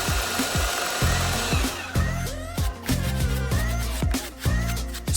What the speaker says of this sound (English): Sand the rings into shape.